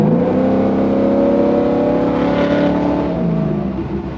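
Mercury Marine SB4 7-liter V8 engine in a Chevy Caprice revving, a loud rising and held harmonic roar that sweeps up, sustains, then drops off near the end, close and alone.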